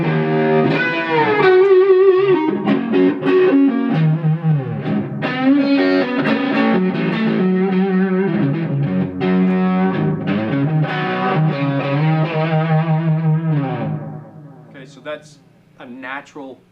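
Distorted, overdriven electric guitar through a Gjika Gainmaster amp plays a sustained, gritty riff with rich harmonics, loud and continuous, fading out near the end.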